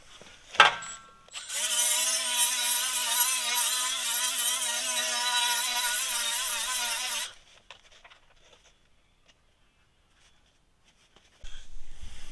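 A power tool bevels a steel coupon for a weld repair on a law enforcement vehicle frame, giving a loud, steady, close grinding whine for about six seconds before cutting off into near silence.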